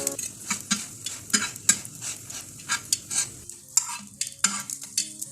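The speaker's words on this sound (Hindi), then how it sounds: "वही 1 टेबलस्पून उसमें ऑयल ऐड करेंगे और इसी तरीके से फ्राई कर लेंगे।" Saudi street-food mutabbaq frying in a tablespoon of oil, a light sizzle under repeated sharp scraping and tapping of a spatula on the pan, close and rhythmic with brief pauses.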